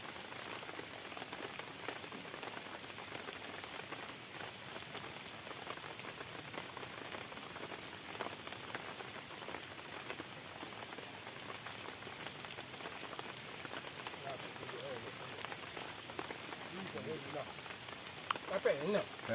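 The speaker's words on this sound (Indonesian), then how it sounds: "Hujan." Heavy rain pours steadily on a fishing outing as strong wind sweeps in, a dense, even hiss running unbroken throughout, with voices faint beneath it.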